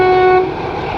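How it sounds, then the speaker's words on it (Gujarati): A train arriving in the Jamwala Gir area sounds its horn, a loud steady toot for about half a second, then gives way to a rumbling approach that continues to the end. "તો ગાઈસ જો આવી ગઈ છે હવે ટ્રેન"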